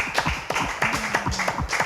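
Audience at a French-language personal talk gives scattered, uneven claps: a handful of sharp, close hand claps that overlap loosely without settling into a steady roar.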